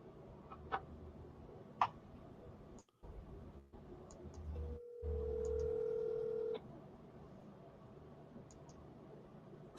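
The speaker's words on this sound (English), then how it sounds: "Your phone is calling you, Bill." A telephone call tone plays faintly: a steady electronic tone holding for about two seconds, preceded by sparse soft clicks and ticks in a quiet room.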